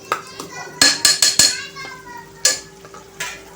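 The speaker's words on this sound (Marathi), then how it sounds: "आणि हे देखील परतून घ्यायचं आहे" A ground paste of ginger, garlic, peanuts and chili sautés with tomatoes in oil, heard mainly as a series of sharp spatula clinks and scrapes against the pan over a faint sizzle, with a speaking voice present.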